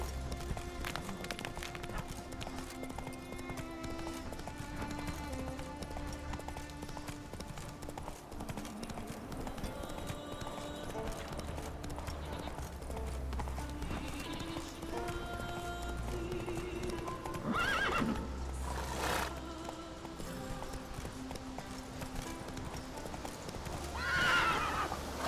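Roach the horse gallops in The Witcher 3 with steady rhythmic hoofbeats over a low ambient score, and two sharp neighs stand out toward the middle and the end.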